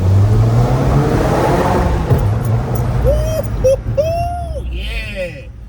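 A BMW M340i LCI with its turbocharged engine revving, a loud close rumbling roar that builds and then fades, while people talk and exclaim over it toward the end.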